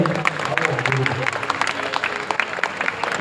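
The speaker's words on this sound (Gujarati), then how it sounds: "તાળીઓનો એકવાર જોરથી ગડગડાટ કરી દઈએ" An audience at a temple gathering claps together in a dense, continuous patter of applause that fills the short stretch at moderate loudness.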